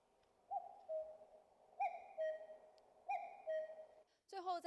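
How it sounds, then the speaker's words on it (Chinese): Common cuckoo calls play in a wetland museum exhibit on the Yancheng Yellow Sea coast: three clear, evenly spaced two-note cu-coo phrases, moderately loud against near silence, followed by a brief voice at the very end. "再来听一下这个大杜鹃的叫声。"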